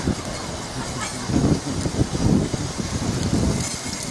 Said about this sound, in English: we've got a bit of wind happening here